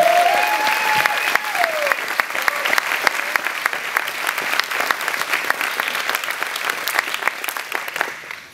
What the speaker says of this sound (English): Can I just get a round of applause for everyone with that?